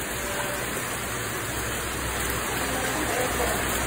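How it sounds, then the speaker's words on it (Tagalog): Heavy rain falling outdoors, a dense steady hiss of drops on surfaces that stays even and loud throughout. "Ayun na naman ang ulan."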